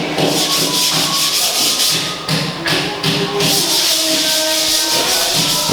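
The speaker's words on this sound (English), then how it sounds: "using sandpaper on concrete" Sandpaper scrapes across cement render on a shed wall outdoors, with a continuous loud rasping rub broken by a couple of brief pauses and light knocks.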